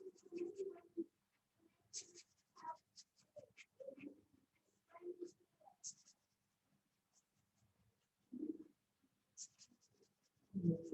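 A felt pen colours in black on paper, with faint, scratchy strokes coming in short bursts and separated by pauses.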